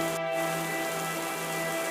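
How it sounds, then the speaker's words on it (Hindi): Heavy rain pours down steadily in a village, a dense continuous hiss of drops on surfaces with a brief dip near the start, loud and with no voices. "बारिश बहुत जोर से हो रही थी"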